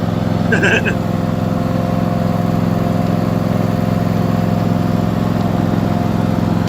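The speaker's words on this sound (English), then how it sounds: "It is a lawnmower" A lawn mower engine runs steadily and close by, with a constant droning hum and even rhythm throughout, and a short chirp briefly rising over it near the start.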